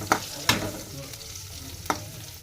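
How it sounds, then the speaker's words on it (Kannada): Green chilies fry in an oiled pan, a continuous close sizzle broken by three sharp clacks of a spoon stirring against the metal, with no voices. "ಇಲ್ಲಿ ನೋಡ್ರಿ ಮೆಣಸಿನ್ಕಾಯಿ ಹಾಕಿನಿ ಇವಾಗ ಫ್ರೈ ಮಾಡ್ಕೊಂಬಿಡಿ"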